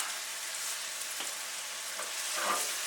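Chopped onions soften as they fry in a pan for tomato sauce, giving a steady, close crackling sizzle with faint clinks of stirring and a slight swell near the end.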